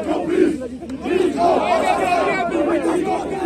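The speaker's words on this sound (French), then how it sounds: "tous ses soutiens vont dans la rue et ils crient" Crowd of political supporters shouting together in the street, a dense wash of raised voices that holds steady and loud throughout.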